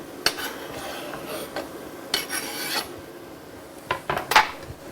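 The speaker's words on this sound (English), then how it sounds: "I'm scraping with not the cutting side of my knife, but the top side" The back of a knife scraping chopped food across a cutting board, a few short rasping strokes with light clinks, fairly close and quiet.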